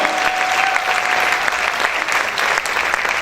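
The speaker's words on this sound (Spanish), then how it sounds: "Si fuera usted, aplaudiera fuerte al Señor. ¡Aplaude!" A church congregation applauds the Lord loudly, a thick continuous roar of many hands clapping at an even level from start to finish, with a faint sustained tone running beneath.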